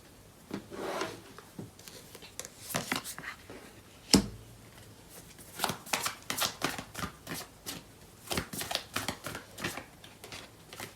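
Tarot cards are shuffled by hand in quick, uneven bursts of soft riffling and slapping, close and fairly quiet, with one sharper tap partway through.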